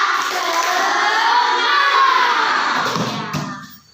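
Schoolchildren in a classroom shout a cheer chant together, their voices loud and close in one sustained burst, with a few hand claps toward the end before it quickly dies away.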